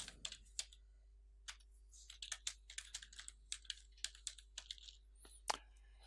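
Typing a title on a computer keyboard: quiet, close key clicks in irregular bursts and short runs, with brief pauses, in an otherwise silent room.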